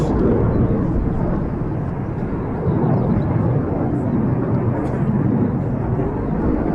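An RAF Eurofighter Typhoon display jet flies above cloud at an airshow at RAF Coningsby, its engine a continuous loud, broad roar rumbling from far overhead, with a voice speaking over it.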